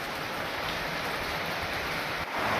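Steady rain falls in a broad, even wash of hiss during a village power cut, close and continuous from start to end with no voices over it.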